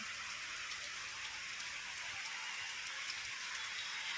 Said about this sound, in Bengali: তো দেখো বন্ধুরা কী পরিমাণে বৃষ্টি হচ্ছে দেখো